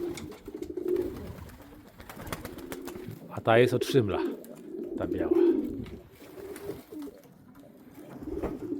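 Domestic pigeons in a loft, pairing off and building nests, coo in repeated low throaty rolls at close range, rising and falling through the clip while someone talks over them.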